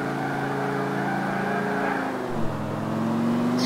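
Mercedes-Benz S65 AMG mod car in the GTA IV video game accelerating hard, a steady loud engine drone rising in pitch through a gear change, with no talk.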